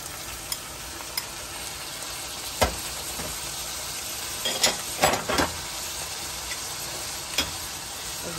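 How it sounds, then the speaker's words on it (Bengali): Lentils stirred in a hot pan for soft khichuri, with a steady low sizzle broken by scattered scraping clicks of the spoon against the pan, close and moderately quiet. "ডালটা দিয়ে নাড়ব।"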